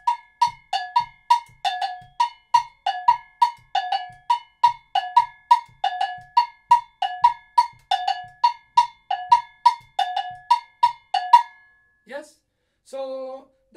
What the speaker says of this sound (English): I use an agogo, yes, and played a really common, you can say, African ternary pattern in it.